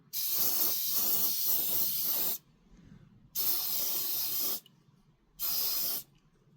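An airbrush or spray can lays a base coat on the chassis of a Tamiya 1/35 scale truck model in three close, steady hissing bursts, each lasting a second or two, with brief quiet gaps between them.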